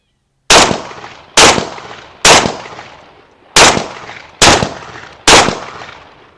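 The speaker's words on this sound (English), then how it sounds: "All right, let's get some buckshot downrange." Beretta 1301 Mod 2 semi-automatic shotgun firing buckshot: six loud, sharp blasts spaced roughly a second apart, each with a short ringing decay outdoors, no talking between shots.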